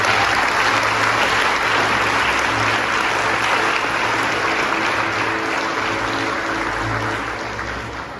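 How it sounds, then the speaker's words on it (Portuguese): A church congregation claps loudly and continuously, a thick sustained roll of applause with a low hum underneath that fades slightly toward the end. "Se você crê nisso, aplauda forte o Senhor."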